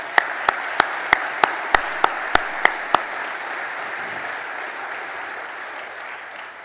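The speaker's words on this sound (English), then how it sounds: "Please give them a round of applause." Audience applause at a Sioux Falls Chamber annual meeting, a steady wash of many hands clapping at moderate loudness. Several louder, evenly spaced claps sit close to the mic in the first three seconds, and the applause continues evenly afterward.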